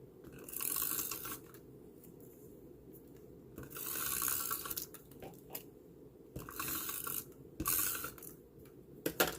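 A Sizzix die cutting machine is cranked by hand to run card through it. Several bursts of ratcheting, clicking mechanism sound come close but fairly quiet, separated by short pauses.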